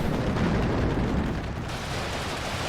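Distant gunfire and artillery in the Cold War strategy game WARNO during a tournament match, a dense, continuous rumble of overlapping blasts and crackling shots with no clearly separated reports.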